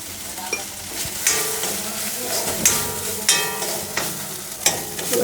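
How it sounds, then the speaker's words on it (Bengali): Spices with turmeric fry in a pan for chickpea dal with jackfruit seeds, a steady close sizzle broken by several sharp stirring scrapes and clinks spaced a second or so apart. "এবার এটা একটু ভালো করে ভেজে নিই।"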